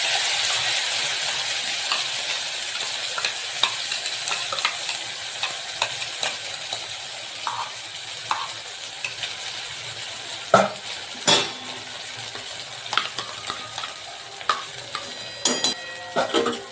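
Ground spice paste for kadai paneer sizzles in hot oil over low heat, a steady crackling hiss with scattered clinks of utensil on pan and a few sharper taps, continuous and close.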